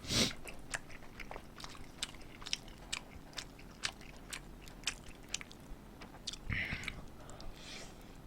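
Close, quiet chewing of sweet potato pizza crust with spicy sauce, soft crunchy bites and wet mastication clicks in an irregular rhythm, with a few faint breaths and murmurs.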